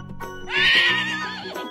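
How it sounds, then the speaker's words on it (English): A horse lets out one loud, close whinny that rises and trembles down over about a second, set against soft background music. "Horse."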